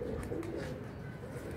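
Soft, low pigeon coos repeat steadily under a constant background hum, fairly close, with no one speaking.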